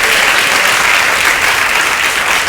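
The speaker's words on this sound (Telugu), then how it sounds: "సర్వజనులారా చప్పట్లు కొట్టుడి" A church congregation at a Telugu Baptist Sunday service claps together, a dense, loud, sustained burst of applause filling the room without pause.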